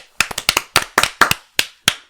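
Sharp hand claps, about eleven of them in an irregular rhythm, loud and close with no voices.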